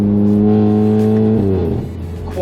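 A VW MK7 GTI with a catless downpipe and stage 2 tune holds a loud, droning exhaust note up close, then the revs drop off with a rough, burbling decay.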